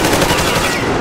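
A mounted turret machine gun in Metro Exodus fires a dense, loud, continuous stream of rapid shots for about a second, close and unbroken.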